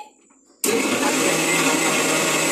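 A kitchen mixer grinder whirring at full speed while grinding cream with water for homemade ghee, starting abruptly after a quiet moment and holding a steady loud roar.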